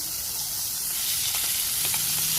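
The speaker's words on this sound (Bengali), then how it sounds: "মাছ ভাজি প্রায় হয়ে গেছে, পেঁয়াজ দিয়ে দিয়েছি মাছের মধ্যে" Fish fries in a pan with onions, producing a loud, dense, steady hiss of sizzling oil close up, with faint stirring scrapes and no voices.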